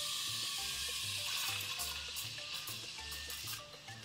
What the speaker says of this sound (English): lower the jug so you hear that slurping sound